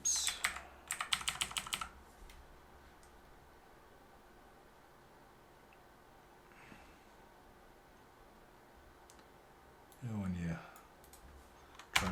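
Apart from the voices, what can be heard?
typing on a computer keyboard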